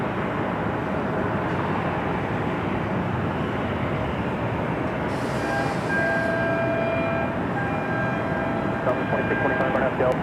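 A jet airliner roaring on the runway at LAX, a loud, steady broadband rumble heard from a distance, with a radio voice talking over it.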